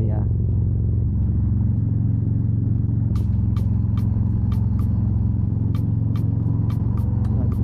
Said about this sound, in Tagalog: Nagdadambuhal ang truck.